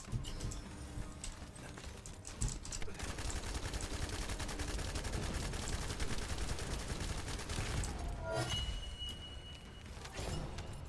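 Gunfire in The First Descendant on hard mode: dense, rapid volleys of shots pound almost without pause, loud and close, easing briefly near the end before resuming.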